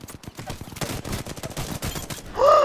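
Rapid automatic gunfire from a machine gun in the Apex Legends video game, a dense stuttering string of sharp shots for over two seconds, ending as a short tonal game chime cuts in.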